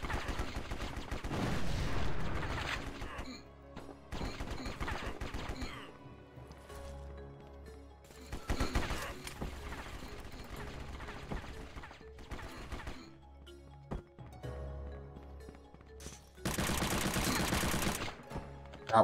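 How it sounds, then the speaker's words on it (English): Gunfire in the War Brokers video game, with loud bursts of shots and rapid automatic fire in separate clusters, broken by quieter gaps and louder flurries near the end. "I'm being shot at from you over here again."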